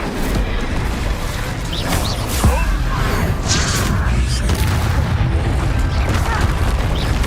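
The Incendio fire spell from Hogwarts Legacy roars through a spell-casting fight as loud, continuous booming and crackling impacts, with occasional faint voices in the din.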